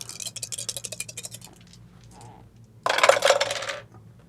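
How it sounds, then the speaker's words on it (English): Four dice rattle and clatter across a surface, first as a run of quick patters, then as a louder, dense burst of tumbling clicks that stops abruptly. "we roll 4 dice and we're taking the highest 3"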